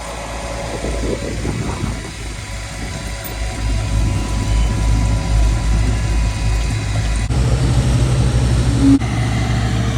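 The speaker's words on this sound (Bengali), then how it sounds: "তিনটা জায়ান্ট মেকানিক্যাল কম্প্যাক্টর একসাথে আসছে।" Three giant mechanical road compactors approaching together at a road works site, a steady low engine rumble and idle that grows slightly heavier and closer toward the end, with no talking.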